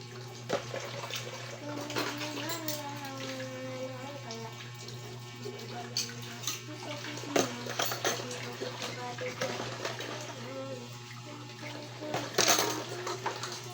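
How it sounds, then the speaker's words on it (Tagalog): Dishes and utensils clink and clatter under running tap water in a sink, close by, with scattered sharp knocks over a steady hum while a person talks at times. "Panghugas ng pinggan."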